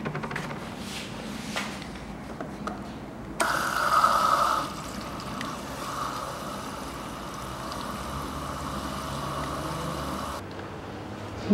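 Water pours steadily into the washer fluid reservoir of a 2012 Volkswagen Scirocco 1.4, a continuous splashing fill that swells for several seconds and then cuts off, with a faint background hum.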